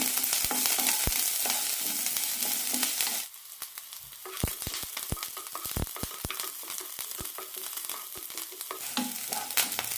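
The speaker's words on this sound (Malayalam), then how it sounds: "ചെറിയ ഉള്ളി നന്നായി ചോക്കുന്നവരെ വഴറ്റിയെടുക്കാം." Shallots and slit green chillies sauté in hot oil for a long-beans stir fry, giving a steady close sizzle broken by sharp scrapes and clinks of a spoon stirring against the pan.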